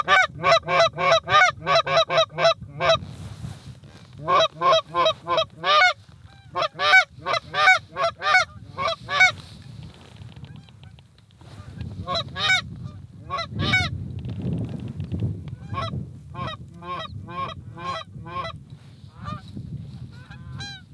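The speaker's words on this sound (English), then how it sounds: "there's geese in front, geese in front." Geese honk in repeated loud bursts during a North Dakota goose hunt, volleys of calls from a flock coming and going over a steady outdoor wind rumble, with a pause midway before the honking resumes.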